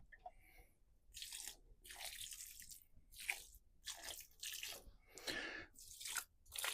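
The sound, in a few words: watering plants in containers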